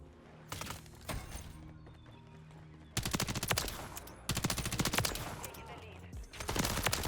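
A BAL 27 rifle fires in Call of Duty MW3 in loud, rapid automatic bursts, three longer strings of cracking shots separated by short gaps of quieter game ambience.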